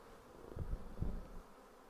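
Honey bees crawling over a hive frame give a low, steady buzzing close by, swelling briefly a couple of times.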